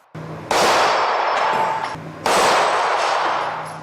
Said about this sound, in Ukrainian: Олександр Пискун на правах почесного гостя турніру теж стріляв по цілях.